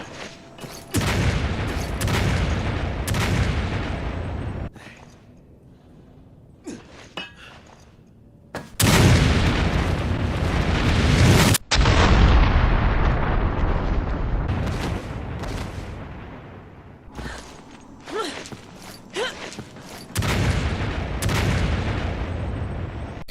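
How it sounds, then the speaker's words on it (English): Grenade blasts in the video game Resident Evil 5, a series of loud, heavy explosions with booming rumbles and crackling debris that swell, cut off and return several times, close and dominant with no talking. "Now let's test this last grenade out."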